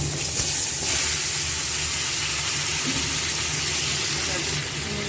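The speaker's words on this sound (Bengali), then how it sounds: "মূলোগুলোকে একটু উল্টে পাল্টে ভালো করে ভেজে নিতে হবে" Radish pieces frying in hot oil with black cumin, a loud steady hiss of sizzling that carries through the whole stretch, close and continuous.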